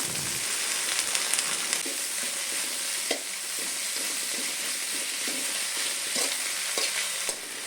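Drumstick leaves frying with browned onions in a pan for a Kerala-style curry, a steady broadband sizzle with occasional stirring scrapes and clicks, close and continuous, with no talk.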